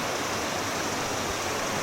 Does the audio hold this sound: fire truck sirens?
no